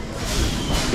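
Short burst of rumbling, clattering noise from a local train standing at Sealdah station, a close, fairly loud mechanical roar with no talk over it.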